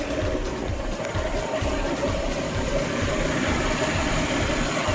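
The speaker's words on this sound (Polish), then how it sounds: "startujemy silnik" A Renault Laguna 2 engine idles continuously after an automatic transmission oil change, at an even, rumbling pitch, close by and fairly loud, with no voices.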